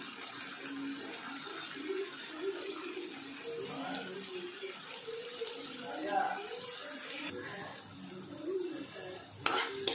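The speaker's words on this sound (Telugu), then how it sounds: "ఇప్పుడు తిప్పుకోవాలి." Broad bean and tomato curry being stirred in a pan, giving a continuous soft scraping and gentle sizzle with faint clinks of the utensil, with brief louder knocks near the end.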